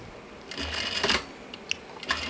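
A sewing machine back stitching the lining of a recycled denim pouch, short bursts of mechanical whirring with a couple of quick clicks between runs, close and moderately quiet, no talking.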